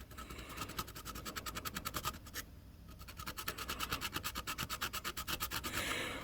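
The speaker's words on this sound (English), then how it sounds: "They call it draw filing when you go sideways of the file." Metal is draw filed with a hand file during a Polaris Ranger 570 EFI gearbox rebuild: a steady run of close, evenly spaced rasping strokes, rhythmic and fairly loud, with a brief pause partway through.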